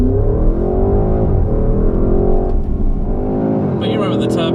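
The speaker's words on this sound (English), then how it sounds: "Sounds really good, and this is the pull of having the V8" Porsche Cayenne GTS Coupe V8 with a lightweight exhaust accelerates hard on wet roads, its engine note rising steadily and loud from inside the car with people talking over it.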